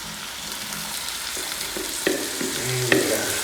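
Tomatoes tipped into garlic and onions already frying in a pan, giving a steady broadband sizzle with a few sharp clinks and stirring knocks near the end, close and moderately loud, no talking.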